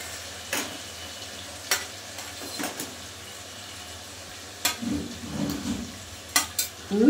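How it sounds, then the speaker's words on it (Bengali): Potatoes being sautéed in a pan with a little water for a besan and poppy seed bora curry, with a quiet background sizzle broken by sparse spoon clinks and scrapes against the pan. "আমি কিন্তু আলুগুলো দিয়ে এটা কষিয়ে নেব"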